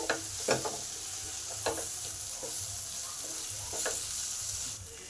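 Flat beans fry quietly in a pan under a soft, steady sizzle, with a few scraping stirs of a spatula spaced through it, heard close but faint.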